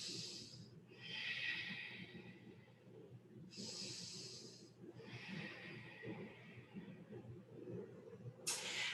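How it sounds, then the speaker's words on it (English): Deep yoga breaths, close and audible: a long inhale, pause, then a long exhale, repeated twice in slow rhythm, ending with a brief sharp breath. "Take a full big breath here."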